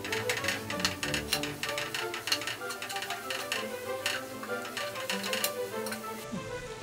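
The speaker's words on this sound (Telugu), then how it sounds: "పచ్చి ధనియాల పొడి, జీలకర్ర పొడి, గరం మసాలా పౌడర్ వేసి బాగా కలపాలి" Spice powders of coriander, cumin and garam masala stirred into channa masala gravy, a quiet steady run of spoon scrapes and soft ticking clinks against the pot over a faint simmer.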